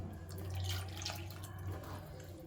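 Tamarind water pours into a pan of stuffed brinjal curry (gutti vankaya), a steady close liquid splash and trickle running for a couple of seconds with no talking.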